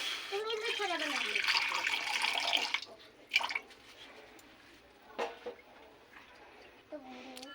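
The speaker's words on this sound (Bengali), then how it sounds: "আর এদিকে কড়াই বসিয়েছি। কড়াইতে দিয়ে দেবো জল।" Water is poured from a vessel into a kadai wok for cooking peas, a close, bright gurgling stream lasting about three seconds, followed by a few faint splashes and drips.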